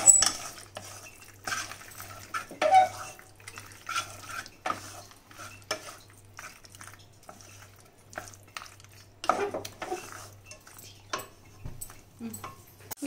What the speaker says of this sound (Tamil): இதை இப்போ நல்லா இதை கிண்டி விட்டுக்கலாங்க.